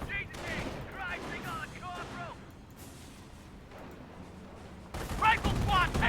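Battle gunfire from the World War II strategy game Company of Heroes, with scattered rifle and machine-gun shots and distant booms running under frequent voice lines and narration, ending in a louder burst of shooting.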